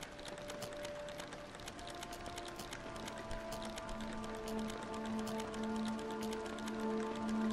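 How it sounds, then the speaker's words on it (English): Rapid, irregular typing clicks in the video game Penumbra: Necrologue, running steadily over a quiet background with faint sustained tones. "Sounds like somebody's typing."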